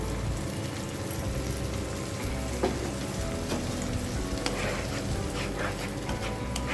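Ginger and garlic paste frying in a hot wok, giving a steady, dense sizzle like rain that runs throughout with no pauses.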